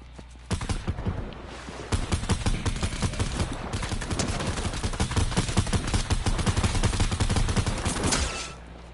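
Rapid bursts of video game gunfire rattle continuously for about eight seconds, loud and dense with no pauses, sounding like several automatic weapons firing at once during an escape-room style shooter match.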